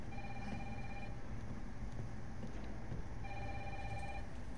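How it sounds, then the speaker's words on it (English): A phone ringing in Resident Evil 3, a repeating electronic trill in two bursts, faint over a steady low game ambience. "Who's calling on my phone?"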